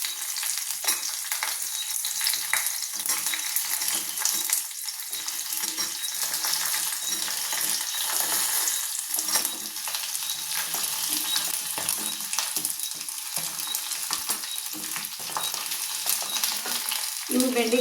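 Okra sizzles steadily in a hot oiled pan with curry leaves while being fried for a chutney, a continuous close crackle with occasional stirring clinks and no talking.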